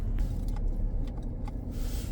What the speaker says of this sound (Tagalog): Ngayon magdadrive tayo papunta sa work at freezing rain.